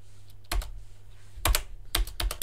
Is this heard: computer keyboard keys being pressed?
yes